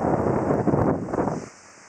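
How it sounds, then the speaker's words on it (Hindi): Strong winds gust through a dark rainstorm in Lahore, a loud roaring wash of wind and rain for about a second and a half before dropping away sharply. "साथ तेज हवाएं भी चली"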